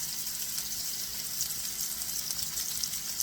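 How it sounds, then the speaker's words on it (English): Kebabs sizzle steadily on a hot indoor grill turned down to lower heat, a continuous close hiss with no talking. "So I got the grill hot and then I turned it down."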